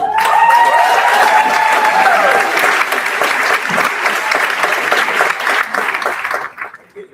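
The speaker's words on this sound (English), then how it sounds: "round of applause for your district and region champions." Loud, dense applause from a large crowd at a school athletic awards ceremony, sustained for several seconds before tapering off at the end.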